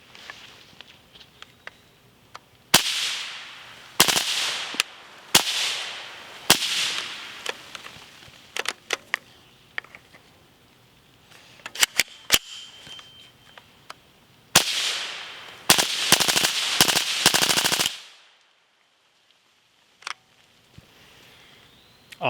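Suppressed supersonic rounds fire through a gun fitted with a Dorin X-PRT 90 reset trigger. Sharp cracks come singly and in rapid strings, loud and close, separated by pauses, with a dense burst near the end before quiet.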